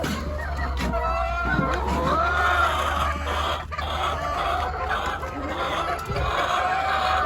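Chickens clucking in a backyard chicken coop, several birds calling in overlapping, warbling clucks close by over steady background noise, with occasional human voices in the mix.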